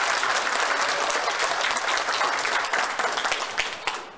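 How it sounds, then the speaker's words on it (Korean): Alumni at an elementary school year-end party give a standing class group a warm round of applause, a thick, continuous clatter of many hands that thins out and fades toward the end. "뜨거운 박수 부탁드리겠습니다."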